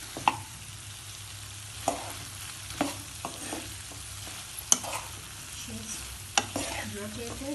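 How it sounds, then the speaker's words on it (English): Chilli chicken stirred in a pan, steady frying sizzle punctuated by regular sharp knocks and scrapes of the utensil against the pan, about every second or so. "now we are stirring it"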